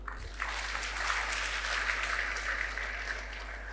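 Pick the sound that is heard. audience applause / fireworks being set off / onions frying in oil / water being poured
audience applause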